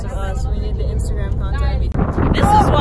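Strong gusts in Chicago batter the microphone with a roaring, rumbling wind noise that builds into a heavier blast near the end, and voices talk over it.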